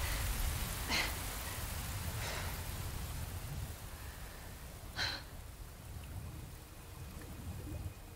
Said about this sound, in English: and then it starts raining